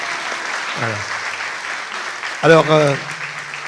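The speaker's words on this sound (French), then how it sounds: "On peut applaudir Tamar pour..." Church congregation applauding during a worship service, steady clapping from a gathered crowd with a voice speaking briefly over it.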